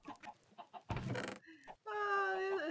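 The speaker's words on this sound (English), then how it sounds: "I haven't checked on these chickens." Chickens in the video game Minecraft clucking in a short, close sequence of squawks and a drawn-out cluck, with no talking.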